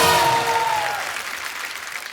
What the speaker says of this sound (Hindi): जोरदार तालियां एक बार मान साहब के लिए